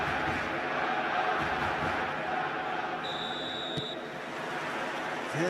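A stadium crowd in an eFootball match, a dense, continuous roar of many voices with a faint whistle-like tone partway through, steady and moderately loud.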